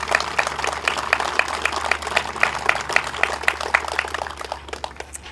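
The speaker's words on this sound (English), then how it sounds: "So please help me give a round of applause for Norman and his work." Audience applause for an honoree at a groundbreaking ceremony, a steady round of dense clapping sustained for about five seconds at moderate level with no voices over it.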